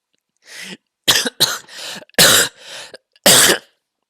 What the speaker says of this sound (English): This is not doing good for my cough.